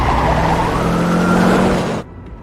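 A car drives along a road, its engine and tyre roar loud and steady for about two seconds, then cuts off abruptly to near silence.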